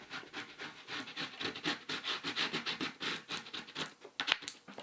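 A scraper rubs vinyl flat onto a fall decor piece in repeated quick scratchy strokes, close and soft, with a rhythmic back-and-forth texture.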